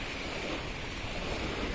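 Surf washing onto a natural, uncrowded beach in Thailand, a steady close roar of breaking waves with wind buffeting the microphone throughout, no voices.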